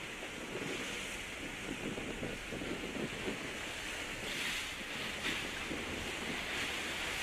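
Ocean surf washes onto a beach at Lanzarote, Spain during a canoe and kayak ocean racing championship, a steady roaring wash of breaking waves mixed with gusting wind noise, continuous and moderately loud with no voices.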